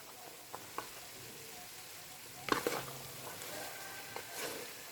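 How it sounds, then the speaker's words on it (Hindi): Chickpeas frying lightly in oil, with a soft steady sizzle that has a few quiet stirring clicks. A louder burst of stirring or scraping rises near the middle and another comes toward the end. "जब ऑयल में हल्का सा फ्राई करेंगे ना तो इसमें इतनी अच्छी शाइन आ जाएगी"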